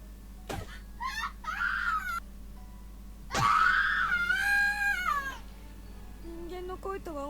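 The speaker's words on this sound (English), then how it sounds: "I've never heard screaming like this before." A boy character in the horror video game Corpse Party lets out two long, shrill, wavering screams of terror, loud and close over a low steady hum, with short gasping cries in between.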